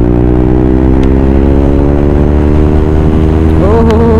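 A KTM Duke 200 motorcycle fitted with a Hydra aftermarket exhaust runs loud and close, its engine holding a steady throaty drone and then rising sharply in a quick rev near the end.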